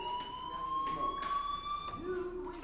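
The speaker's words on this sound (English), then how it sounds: "do you hear that fire alarm? That means you should be outside." In the video game Life is Strange, a school fire alarm rings in a steady, high electronic tone, moderately faint and continuous, with a voice speaking briefly underneath.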